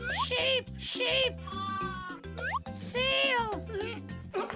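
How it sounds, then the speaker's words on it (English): Cartoon sheep bleating in a children's animal learning show, several wavering bleats in quick succession over a bouncy, loud music track. "Sheep! Sheep!"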